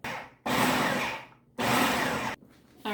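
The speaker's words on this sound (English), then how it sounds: "just throw these into my food processor" Food processor chopping deseeded, topped garden peppers in two loud whirring bursts of about a second each, separated by brief pauses, close and without talk.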